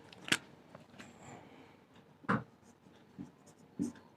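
Pen writing by hand on paper while working a class 10 maths exercise, faint scratchy strokes with a few sharper taps spaced through the quiet.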